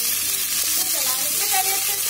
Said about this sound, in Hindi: चलिए इसमें ऐड कर देते हैं पिसे हुए प्याज का